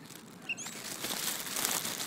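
Seagulls flapping their wings while eating, a busy flurry of wingbeats and rustling close by, with a faint chirp, continuing throughout.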